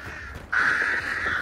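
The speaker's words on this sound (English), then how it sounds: "Just some jumpy crows" Crows caw in the Hunt: Showdown video game, a loud, harsh, sustained cawing that breaks in suddenly over bayou ambience and carries on steadily close by.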